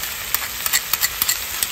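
Garlic fries in a pan with a dense, steady sizzle and hiss, broken by small crackling pops and light stirring scrapes, close and continuous.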